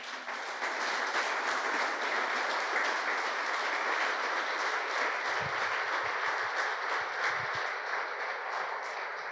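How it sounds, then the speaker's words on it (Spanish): A church congregation applauds during a Spanish-language sermon, a dense, continuous wash of clapping from many people that holds steady and fairly loud throughout, with no voices over it. "Denle un aplauso al Señor."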